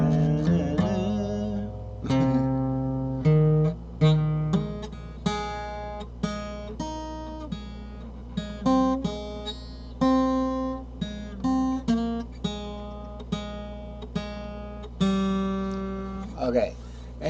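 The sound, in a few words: guitar arpeggio that resembles the Star Spangled Banner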